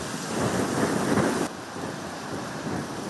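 Hurricane Sally lashing Florida and Alabama with 170 km/h winds and heavy rain, a loud, dense rushing downpour with roaring gusts that surge, then ease slightly midway and keep pounding steadily.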